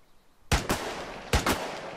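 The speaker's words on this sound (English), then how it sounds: "Who's shooting?" Gunfire in the military video game Arma 3: two quick pairs of sharp, loud shots, each pair a rapid double crack with a short echoing tail, separated by a brief pause.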